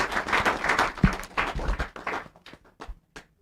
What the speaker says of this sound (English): make we clap for her